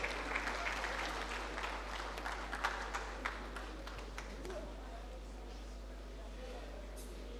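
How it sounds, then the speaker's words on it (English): Applause at a ministerial press briefing swells near the start and then thins out into faint, scattered claps. A low background hum and some murmuring carry on underneath. "Please, with a round of applause, welcome the Honorable Minister."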